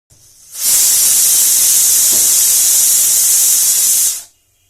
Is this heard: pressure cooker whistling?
yes